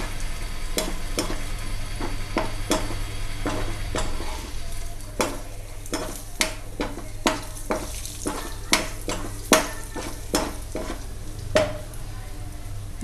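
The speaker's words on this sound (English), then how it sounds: "We have to stir them on and off." Mutton roast with garlic frying in a pan, stirred now and then: steady sizzle underneath with a run of sharp, irregular scraping knocks of a spoon against the pan, close and fairly loud, no talking.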